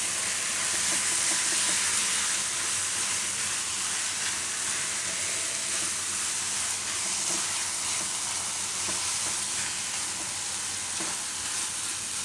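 Roasted gram flour being stirred into ridge gourd and patra vegetables in a hot pan gives a steady, even sizzle and hiss throughout, close and moderately loud, with no speech.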